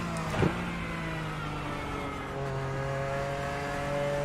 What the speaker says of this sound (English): we're in the Porsche GT3 991 GT3 Cup car